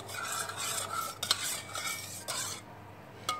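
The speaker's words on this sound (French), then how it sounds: "on mélange bien" A spoon stirs yeast into water, making a rhythmic swishing with light clinks against the bowl, fairly close and quiet, with no talking.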